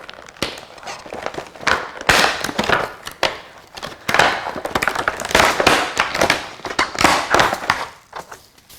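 Cardboard BattlBox subscription package being opened, with busy crinkling, tearing and rustling of packing material, close and fairly loud, in bursts across the whole stretch.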